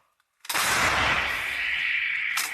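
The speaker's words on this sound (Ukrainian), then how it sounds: "Гармата! Постріл!" A single massive blast from an M777 howitzer erupts after a brief quiet, its loud broadband roar sustained and rumbling for about two seconds.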